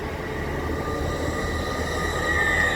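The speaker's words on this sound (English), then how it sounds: "catching me off guard again is 802-301 with the... I think this is the 1608 Hull train service to London King's Cross." A Class 802 train, unit 802-301, runs the 1608 Hull to London King's Cross service through Grantham station with a loud, steady rumble close by and a thin wheel squeal rising near the end.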